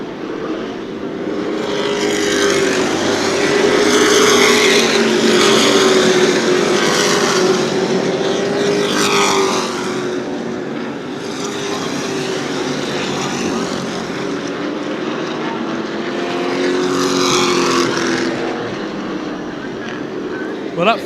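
Sportsman race cars roar around New Smyrna Speedway, a loud continuous engine drone rising and falling as the pack passes, under steady excited commentary.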